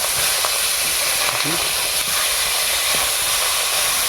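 Gule fish fries lightly in hot oil, giving a loud, dense, continuous hiss close up, with a few faint clinks and no speech.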